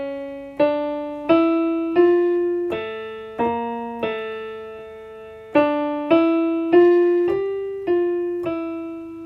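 A character's main melody from The Bad Batch plays on a plucked or struck keyboard-like instrument, slow single notes over sustained bass tones rising and falling in two similar phrases, clear and alone with no voices.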